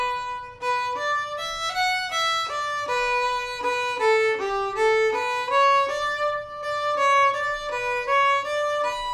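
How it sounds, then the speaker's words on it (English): A fiddle plays a lively melody with a new bow stroke for each note, giving clear, separate, evenly paced notes played alone and close up. "most of the time we can be playing each note with an individual bow stroke"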